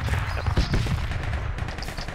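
A frag grenade in the video game Project Reality bursts close by with a heavy, booming blast and a rumbling decay that fills the short moment.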